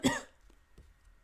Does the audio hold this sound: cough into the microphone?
yes